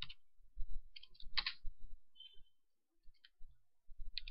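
Keystrokes on a computer keyboard while entering microcontroller code, a quiet close run of irregular clicks with short pauses and a brief louder burst partway through.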